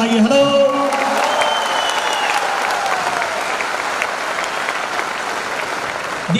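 Audience at a motivational seminar breaks into sustained applause, a dense steady wash of clapping that carries through the whole stretch with little change in level.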